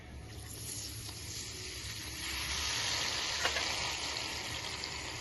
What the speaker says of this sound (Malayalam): നമുക്ക് ആദ്യം ഈ പപ്പടം ഒന്ന് വറുത്തെടുക്കാം